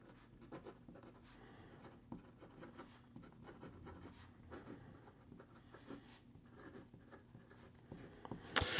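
A Kaweco Sport fountain pen with a medium nib scratches and glides across paper, a soft, close, continuous stream of small strokes and ticks with no talking.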